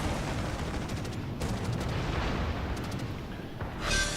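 Naval gunfire and an explosion aboard warships in the World of Warships game, a dense rumbling barrage with several sharp booming impacts and a brighter blast at the end, no talking.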